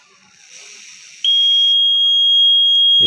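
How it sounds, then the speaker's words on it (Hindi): A homemade gas leakage alarm goes off as gas reaches its sensor, giving a loud, steady high-pitched electronic tone that starts abruptly after a soft hiss and holds without a break. "ये देखें इसने हमारे अलार्म को ऑन कर दिया है।"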